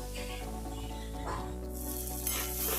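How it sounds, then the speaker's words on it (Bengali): Eggplant fries in a pan for a mustard-and-eggplant greens dish, giving a steady, close sizzle with a low background hum that brightens slightly toward the end. "ততক্ষণে বেগুনটাকে ভেজে নিই"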